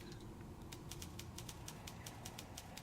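Typing sounds from the puzzle video game The Room 2, a quiet series of quick, evenly spaced clicks tapping out over a soft background hum, with no voices.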